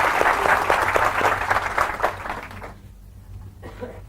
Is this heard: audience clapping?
yes